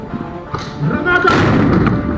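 Airsoft grenade going off during a game, a loud dull burst rising partway through and sustaining noisily for about a second amid shouting and movement.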